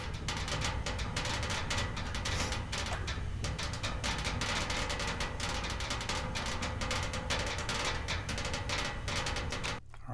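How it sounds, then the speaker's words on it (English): Steam radiator in an old apartment building banging: a long run of sharp metallic knocks in an irregular but continuous rhythm, fairly close and uniform, lasting about ten seconds before stopping abruptly. "The first thing you hear is a steam radiator."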